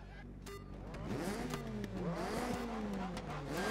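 A rallycross Mitsubishi Lancer Evo in the video game Dirt 3, racing on ice, its engine revving up and down through several gear changes, with other cars close by, loud and continuous.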